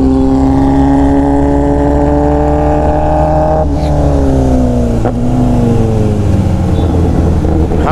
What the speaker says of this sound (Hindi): देख रहे हो जो आवाज आ रही है ना, बम बम, ये ऑटो ब्लीपर का कमाल होता है।